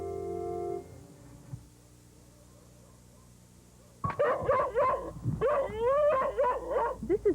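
Dogs at the Whitfield County Animal Shelter, some weak and sick, let out close, loud barks, howls and whimpers in a burst of overlapping calls after a stretch of near quiet.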